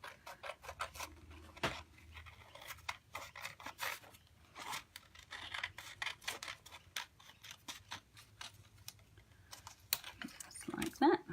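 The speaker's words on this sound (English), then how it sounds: "get some scissors. Now I'll just cut that just inside that pen mark." Crisp, repeated snipping of scissors cutting through card stock for greeting cards in irregular bursts, close up, with occasional soft rustling.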